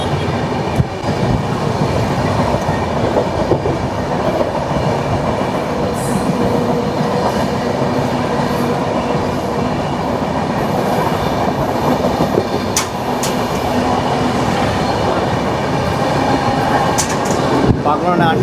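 Barak Brahmaputra Express train running along a railway track beside a road, a steady continuous rumble and clatter of wheels, moderately close, with faint voices in the background.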